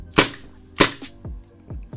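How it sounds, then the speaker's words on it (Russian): Two sharp, snappy shots from a Tokyo Marui Glock 19 Gen.3 gas blowback airsoft pistol fitted with a barrel plug ring out close by, each followed by a quick mechanical clack, with no talking. "Выстрел произойдет, но очевидно, что шарик не вылетит."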